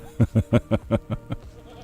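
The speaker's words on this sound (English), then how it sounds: "There's some goat around here, and he's not happy about something." A goat in a video game lets out a quick stuttering bleat of about seven pulses, loud at first and fading toward the end.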